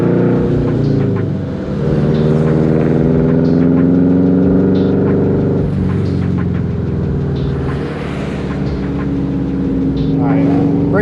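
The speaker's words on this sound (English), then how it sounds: "Try smashing on the brakes in like a real empty spot" A 2004 Subaru WRX STI drives with a steady loud engine drone and road rumble throughout, pitch rising and falling slightly as it accelerates and slows for a hard brake test in an empty lot.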